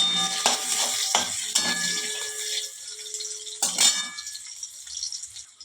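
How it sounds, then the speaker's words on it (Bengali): Carrots sizzling as they fry in ghee in a pan while vegetable dal is made, with sharp clatter and stirring knocks over a steady frying hiss, close and fairly loud. "যেহেতু গাজরটা শক্ত, ওটাকে আগেই দিতে হবে, ওটাকে আগে ভেজে দিতে হচ্ছে।"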